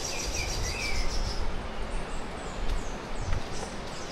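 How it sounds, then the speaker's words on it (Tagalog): Birds chirp and trill in the forest near Gabaldon Falls in Nueva Ecija, several thin high calls scattered over a steady broadband hum of insects and running water, moderately distant, with no talking. "maririnig nyo yung mga huni ng ibon"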